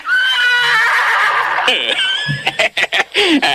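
A horse neighs loudly and close in a Pangasinan comedy drama, one long shrill whinny followed by shorter choppy snorting bursts, with no talk over it.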